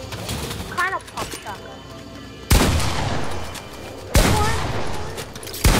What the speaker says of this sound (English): The SPAS-12 is like the most cracked shot of all shotguns